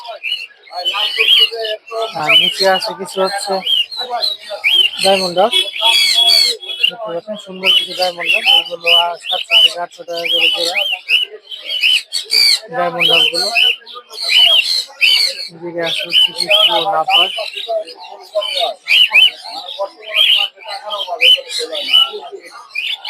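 Caged pet birds at the Mirpur 1 bird market on a very hot day fill the air with dense, loud, overlapping chirps, squawks and whistles, close by and almost unbroken.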